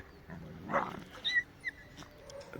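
A dog gives one faint bark on a rural farm, followed by a couple of short yips against quiet outdoor background.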